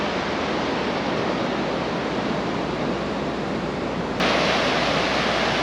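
Large sea waves surge and crash at the north breakwater of Wushi Harbor in Toucheng, Yilan, a dense continuous roar of surf that swells slightly louder near the end, with no voices.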